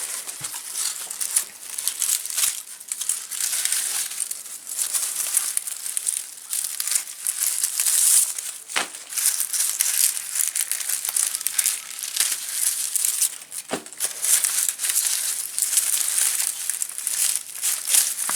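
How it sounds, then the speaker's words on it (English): Dry tops of harvested onions are cut off in a garden, giving a continuous close crinkling and rustling of dry stalks and papery leaves, with a few sharp snaps of cutting scattered through, and no talk. "So we're just cutting the tops off of these here."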